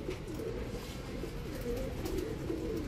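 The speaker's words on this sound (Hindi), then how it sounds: "तो भाई ये कबूतर है" A black pigeon coos softly and repeatedly in low, throaty murmurs over a dense, noisy background, with no talking.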